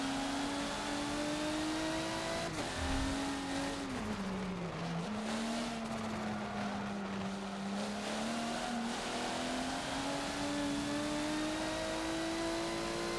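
A Peugeot racing car in Forza on the Maple Valley track revs hard and steadily, its engine note rising, dipping briefly near the start, then climbing again, loud and continuous with no talking.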